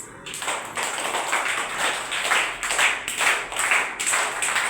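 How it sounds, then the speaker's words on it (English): Children clapping their hands together during a Simon says game in a classroom, a dense, rhythmic burst of many small hands clapping in unison, loud and close throughout. "Simon says, clap your hands."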